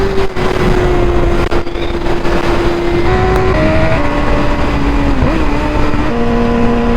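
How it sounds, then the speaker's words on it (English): Tuned 2012 BMW S1000RR sport bike with a full exhaust, heard from the rider's seat as a loud, continuous engine note that climbs in pitch through the gears, with wind roar throughout and no talking. "And the exhaust sounds good."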